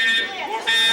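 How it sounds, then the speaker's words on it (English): Alarm at the Hilton Hotel in Kuwait City blares a loud, steady electronic buzzing tone that dips briefly in the middle, with voices mixed in underneath. "an alarm disturbs lunch at the Hilton Hotel"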